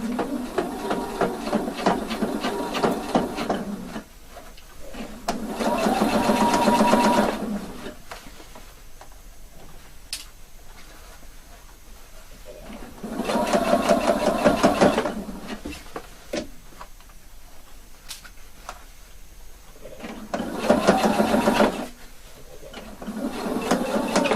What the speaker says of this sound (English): Now I'm sewing this from cross point to cross point, 1 centimeter of seam allowance